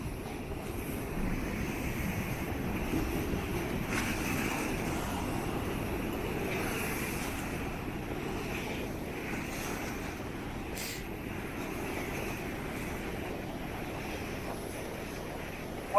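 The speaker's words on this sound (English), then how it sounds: "Watching them waves slowly." Ocean waves rolling onto the seafront at Blackpool, a steady broadband wash of surf with some wind noise on the microphone, continuous and moderately loud with no talking.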